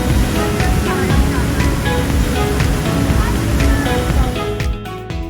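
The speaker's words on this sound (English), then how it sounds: "The Kozjak waterfall cascades about 45 feet into a pool in a hidden" The Kozjak waterfall in Slovenia drops about 45 feet into a pool in a hidden gorge, giving a steady, loud, broadband rush of falling water, with faint voices in the background.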